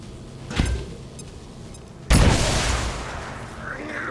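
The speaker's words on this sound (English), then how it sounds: "Grenade out." A grenade blows up in the video game XCOM 2 War of the Chosen: a small thud first, then a loud, sudden blast that rolls on with a decaying rumble and debris, heard up close with no talk.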